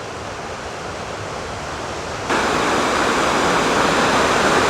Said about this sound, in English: Here's a fairly good view of the creek